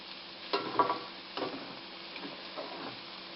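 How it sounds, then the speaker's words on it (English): Spinach sautéing with olive oil and fresh chopped garlic in a pan, a faint sizzle with a few soft stirring scrapes and clicks, quiet and close. "We're beginning to saute the spinach. We've added some olive oil to the pan and the fresh chopped garlic."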